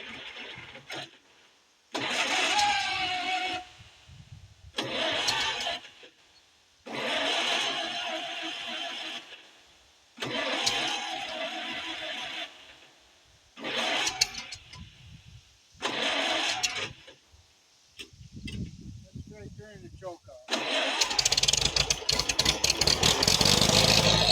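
An old Farmall H tractor engine turning over in repeated bursts, cranking and sputtering with pauses of silence between tries, then catching and running roughly, loud and close, with no talk.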